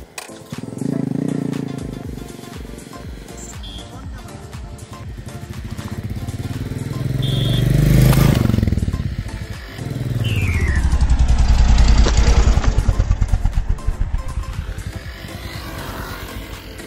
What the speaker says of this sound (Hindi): अब फिर हम लोग इसके ऊपर से बुलेट को लेकर जाएंगे।